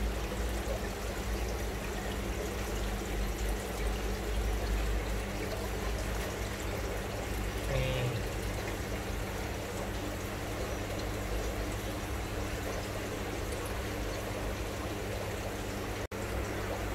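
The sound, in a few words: water flowing down through an aquarium filtration system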